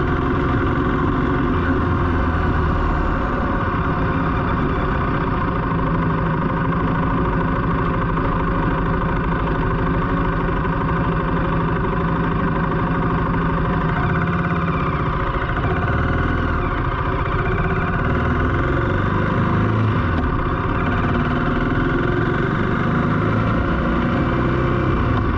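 A BSA Goldstar 650 motorcycle idles steadily and loud, its engine and exhaust holding an even, continuous drone with no thumping pulse and no change in speed.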